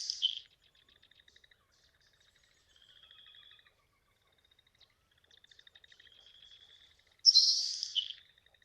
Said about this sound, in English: the more kind of ephemeral, bacon sizzly, tequila sounding of the Nelson sparrow.